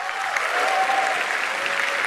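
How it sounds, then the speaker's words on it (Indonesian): A room full of people claps steadily, a dense patter of applause that continues evenly throughout. "tepuk tangan dong"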